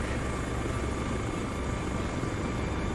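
A Little Bird helicopter in the military game Arma flies with a steady, loud rotor and turbine roar that fills the whole stretch, dense and unbroken, with no voices over it.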